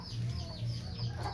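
A hen with her chick gives soft, low, repeated clucks close by, a few brief pulses against a quiet background.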